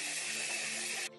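NYX Dewy Finish setting spray misted onto a made-up face: one steady, close hiss of about a second that cuts off abruptly into quiet.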